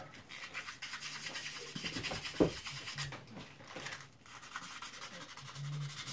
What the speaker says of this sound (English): it's way easier to use like a 600 grit wet sandpaper